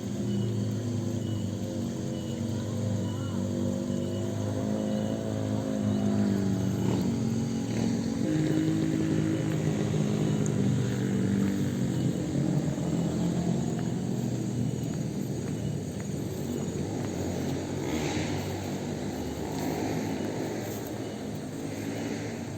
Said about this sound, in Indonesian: wah itu motor dari atas sana sahabat ya, tuh gegerungan sekali itu di sana